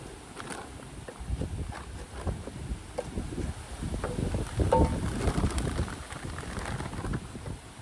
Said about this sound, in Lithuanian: Apsiniaukia, vėjas didžiausias.